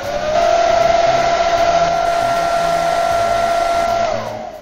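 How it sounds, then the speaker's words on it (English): A hair dryer on its highest setting runs at a loud, steady whine for about four seconds, blowing on shrink-film window insulation, then switches off and winds down. "grab your hairdryer on the highest setting and blow the plastic from the top down"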